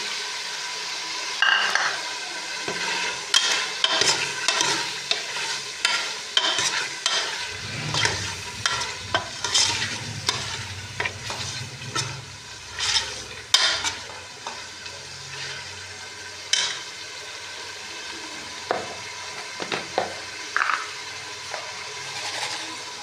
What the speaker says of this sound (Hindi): डालेंगे ये लहसुन अदरक का पेस्ट, ये टमाटर, सब्ज़ मिर्चें, ये डालेंगे इसमें।